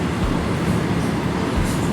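A train on the main line through a busy Indian station, a dense continuous roar and rumble of rolling wagons, loud and close for the whole short stretch.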